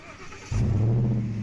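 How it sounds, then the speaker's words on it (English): A truck engine in the video game Snowrunner cranks and catches at about half a second, then settles into a loud, steady low idle rumble that continues to the end, with no talking over it. "listen to that engine start up"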